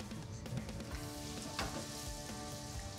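Tomato paste sizzles and fries in a hot pan while being stirred, a loud, close, continuous crackle with scraping stir strokes over it and no talking.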